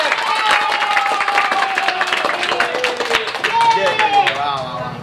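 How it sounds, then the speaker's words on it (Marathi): Steady clapping from a crowd at an award felicitation runs throughout, with voices and some cheering mixed over the applause at a fairly loud level. "टाळ्या थांबल्या नाही पाहिजे"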